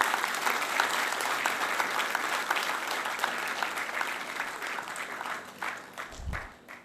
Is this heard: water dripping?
no